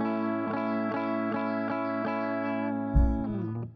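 Electric guitar through a virtual Soldano SLO 100 amp with no compression, playing a distorted, sustained chord with faint rhythmic pulses, then a brighter attack near the end before it rings out and fades.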